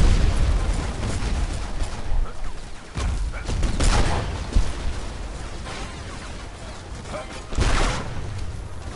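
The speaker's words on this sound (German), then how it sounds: "Ah, so viele Granaten." Grenades going off one after another in a Battlefield Heroes match, a chaotic run of booming blasts and crackling bursts with several heavier explosions standing out, under faint game noise.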